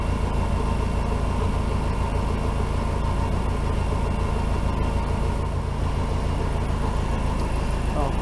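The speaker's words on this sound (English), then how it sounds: "We'll do idle and then we'll do 2000 to simulate driving on the road." A car engine idles steadily during emissions-style testing, a constant close rumble with no voices.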